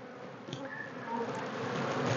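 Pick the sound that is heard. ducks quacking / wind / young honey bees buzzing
young honey bees buzzing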